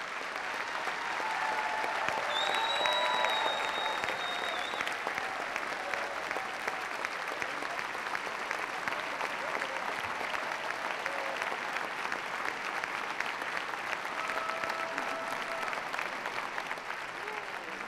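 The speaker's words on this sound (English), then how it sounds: "could you please give them a round of applause?" An audience applauds staff at Rona Ambrose's final speech as Conservative leader, with sustained, even clapping that swells slightly early on and carries on at steady strength.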